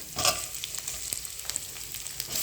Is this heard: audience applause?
no